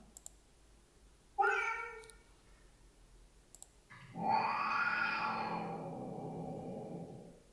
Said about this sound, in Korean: 예, 고양이 소리 한번 들어보겠습니다.